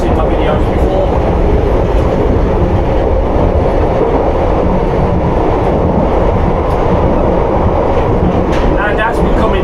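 A London Underground Piccadilly Line train runs at night between Cockfosters and Acton, heard from the rear car as a steady, loud rolling roar with continuous rail noise and faint clicks throughout.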